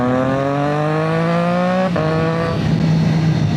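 Big motorcycle accelerating at full throttle, its loud, close engine howl rising steeply, then a sharp shift and a second lower pull settling into a steady drone.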